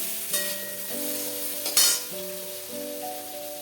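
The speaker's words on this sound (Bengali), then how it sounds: "একটু নাড়ানাড়ি করে নিই।" Fish curry masala with chopped tomato gets stirred in a pan over a steady loud sizzle, broken by a few utensil scrapes and one sharper clink near the middle. Nobody talks.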